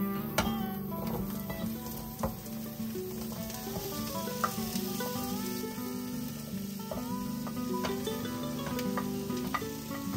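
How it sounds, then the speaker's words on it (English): Three kinds of peppers sauté in olive oil in a pan, giving a steady, close sizzle with scattered crackles and light stirring. A faint tonal background runs underneath, and no one speaks. "let's saute the peppers. We're gonna throw all the 3 peppers together"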